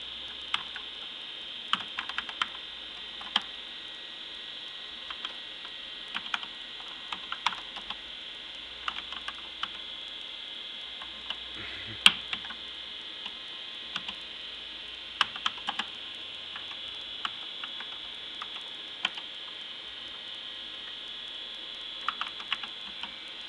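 Keys clack on an old Tandy 1000SX computer keyboard, a long run of irregular, close taps and clicks over a steady high electronic whine, with no voices.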